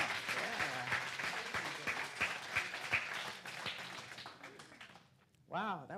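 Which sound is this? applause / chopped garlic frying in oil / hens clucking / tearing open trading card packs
applause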